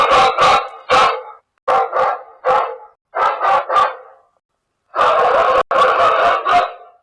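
Recorded dog barking played on a pomegranate farm to scare squirrels away: loud, close barks in quick bursts of two or three, then a pause and a dense run of repeated barks, with no talk.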